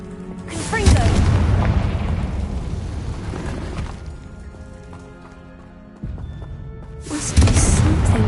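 A Confringo spell from a wizarding video game erupts in a loud, booming blast that rumbles and fades over several seconds, then a second heavy burst hits near the end.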